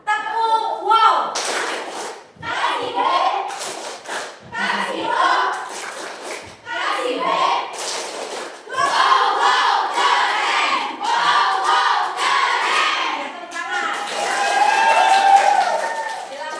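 Indonesian classroom students performing a rhythmic clapping chant together, loud group voices shouting in unison with bursts of claps and thumps, pausing between rounds and swelling louder toward the end.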